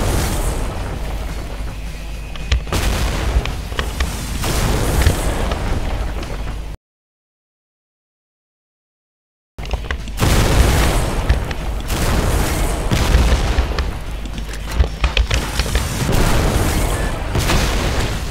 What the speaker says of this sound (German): Diese Explosion jetzt gerade beim Gegner war übrigens Sekundärfeuer.